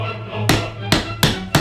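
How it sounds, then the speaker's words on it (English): Mallet hammering a stubborn part into place, four sharp loud knocks at uneven intervals, close up with a low hum underneath. "Sometimes you just need to hammer it in"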